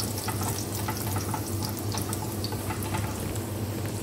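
Chopped garlic sizzles steadily in a small amount of hot cooking oil while sweet and sour sauce for fishballs is started, a close, constant crackling hiss with no pauses and no voices.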